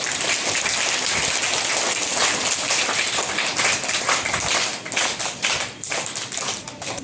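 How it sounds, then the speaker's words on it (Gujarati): Crowd applause welcoming new schoolchildren at a school entrance ceremony, a loud, dense, rain-like wash of many hands clapping at once that holds steady, then thins slightly toward the end. "તાળીઓના ગડગડાટથી વધાવીએ."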